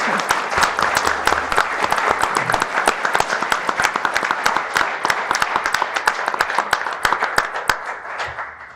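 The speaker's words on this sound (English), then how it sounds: "Let's give them a round of applause." Audience applause at a Provo city council meeting, sustained sharp hand claps from a room of people, loud and continuous for several seconds before thinning out at the end.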